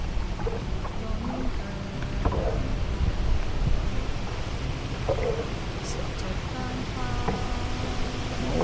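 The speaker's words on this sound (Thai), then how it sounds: "ลมแรงมากเลยนะคะ" Strong wind buffets steadily over floodwater while a paddled boat moves through a flooded neighborhood, a constant broadband roar with faint knocks and distant voices beneath it.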